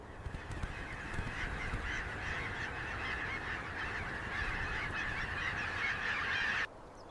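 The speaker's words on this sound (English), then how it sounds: "The birds are beautiful." Geese honking near trees, a dense chorus of loud, overlapping calls that continues throughout before cutting off at the end.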